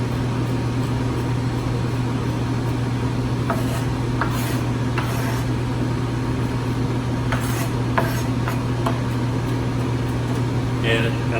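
A knife chops shallots finely on a cutting board, a handful of crisp strikes spaced irregularly over a steady low kitchen hum.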